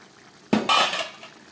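A lid lifted off a cooking pot of tangra fish simmering on low gas: a sharp metallic clank and a brief rattle of the lid against the pot, close by, then quiet.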